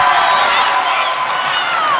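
Spectators at a women's college basketball game roar and cheer after a blocked shot, a sustained loud wash of crowd noise with a commentator's voice running over it.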